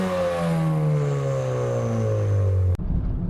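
A Ford Fiesta ST180 under acceleration, its raspy exhaust and engine note rising in pitch through the rev range, loud and close, then cutting off abruptly into a lower, rougher idle.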